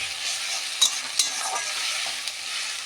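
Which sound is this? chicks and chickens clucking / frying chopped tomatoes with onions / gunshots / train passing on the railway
frying chopped tomatoes with onions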